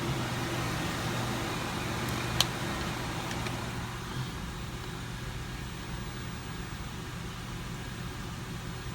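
A 2005 Lincoln Aviator with a 4.6L engine runs at a steady idle after a spark plug replacement, a quiet even hum with a low drone and fan-like hiss, plus one brief click.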